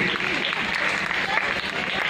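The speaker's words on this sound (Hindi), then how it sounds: "तो जोरदार ताली इस बच्ची के लिए भी और इसके पेरेंट्स के लिए भी।" Applause at a school graduation ceremony in Dhanari, a dense patter of many hands clapping steadily throughout, fairly close, with some voices mixed in beneath.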